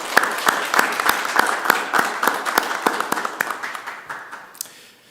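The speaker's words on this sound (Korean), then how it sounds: "우리 삼위일체 하나님께 영광의 박수를 한번 드립시다." A church congregation applauds during a Trinity Sunday worship service, a steady patter of many hands with a few sharper, louder claps standing out, thinning and fading toward the end.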